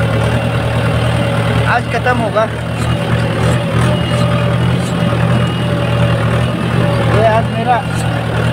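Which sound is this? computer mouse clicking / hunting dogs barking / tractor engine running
tractor engine running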